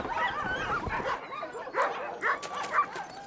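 Hunting sled dogs in the frozen north bark and whimper in a chained-up village, a nearby chorus of yips, whines and barks with one voice speaking briefly at the start.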